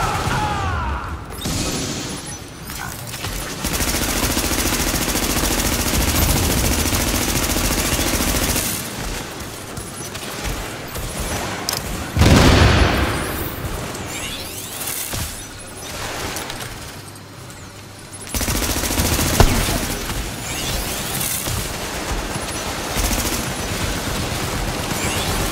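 Sustained machine gun fire in the video game The Division, with long loud bursts of rapid shots broken by brief pauses and a sharp crash partway through.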